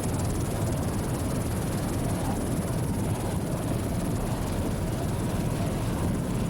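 A continuous roaring engine drone, loud and steady throughout, from racing powerboats coming up on plane in divisional races, heard from some distance.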